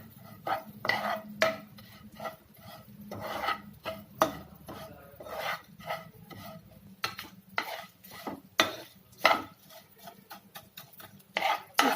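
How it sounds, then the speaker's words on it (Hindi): Acacia gum frying in ghee, stirred with a spoon, making repeated scraping, rubbing strokes against the pan in an irregular rhythm, close and fairly quiet with no talk. "बबूल की जो गूंद हमने ली है उसको डाल देना है घी में"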